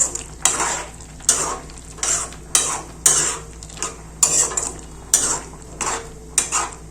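Beetroot kurma being stirred in a pan, a rhythmic series of about a dozen scraping spoon strokes, close and fairly loud over a faint low hum, no talk.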